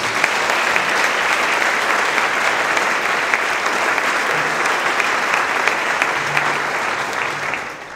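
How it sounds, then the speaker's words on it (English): Loud, dense applause from a school concert audience thanking the music boosters, a continuous wash of clapping that holds steady and tapers at the end. "Can we give them a really great round of applause for us?"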